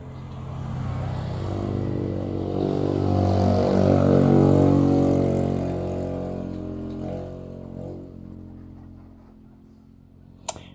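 A large motorcycle passes outside a house, its engine drone swelling to a peak and then fading away as it moves off, heard steadily from indoors.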